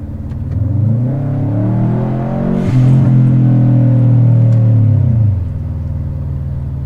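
A V8 engine swapped into a Subaru Forester revs up from a deep idle rumble, climbs and holds a loud throaty growl, then drops back down to a steady idle, close and prominent.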